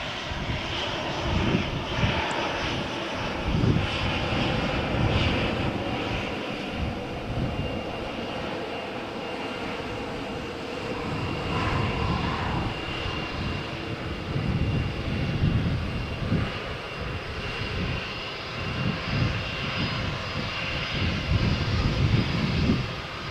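An airplane taxis for takeoff at Malaga Airport on the Costa del Sol on a stormy morning, its engines giving a steady, continuous roar for the whole stretch with no voices.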